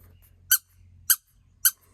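A squeaky toy duck, found in a car, squeezed three times in a steady rhythm, each squeak short, sharp and close against a faint low hum.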